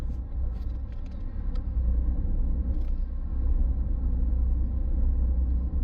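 A rental car cruises the rough north coast road between Cabarete and Las Terrenas in the Dominican Republic, a steady low engine and road rumble heard from inside with a few faint rattles, no talk.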